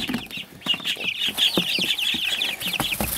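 Young baby chicks chirp rapidly and repeatedly at close range, high peeping calls overlapping in a busy, continuous chorus with a few soft clucking sounds mixed in.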